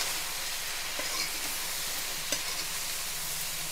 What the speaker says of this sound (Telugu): హై ఫ్లేమ్ మీద పెట్టే కలపాలన్నమాట. ఇవన్నీ బాగా కలుపుకుందాం.